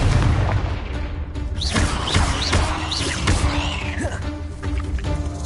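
Hogwarts Legacy gameplay: fiery Confringo spell blasts boom and crack one after another over dense, loud game effects and a rumbling background.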